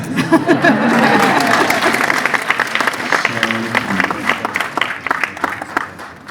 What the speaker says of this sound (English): got an applause. Yeah. Applause.